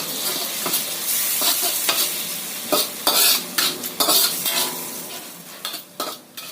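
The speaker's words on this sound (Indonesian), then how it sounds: "Kita aduk rata dulu." Oyster sauce and sesame oil stirred together in a hot pan, a steady sizzle with repeated scraping and clinking of the utensil against the metal throughout.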